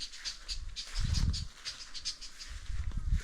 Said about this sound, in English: Birds, they are all over here, singing nice melodies.